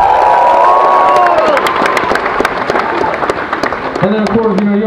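A concert audience at a show in Tivoli Vredenburg, Utrecht, applauding and cheering loudly in a sustained wash of clapping with shouts, while a voice speaks over the crowd.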